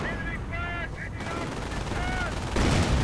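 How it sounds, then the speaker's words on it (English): MG-42 machine gun fire crackles in rapid bursts amid battle noise in the strategy game Company of Heroes, mixed with other game sounds and whistling tones, moderately loud throughout. "MG-42 suppressing the Bren gunners"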